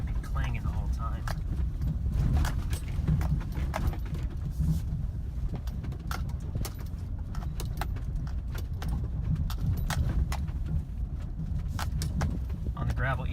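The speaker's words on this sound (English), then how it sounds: "Hear my trailer clanging behind me there." A trailer rattles and clanks behind a vehicle driving on a gravel road, with irregular metallic clatters over a constant low road and engine rumble, and someone talks at times.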